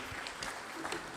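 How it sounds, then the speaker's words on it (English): Audience applause at a formal celebration event honoring a dignitary, a steady wash of clapping held at an even level throughout the short stretch. "A round of applause for His Excellency."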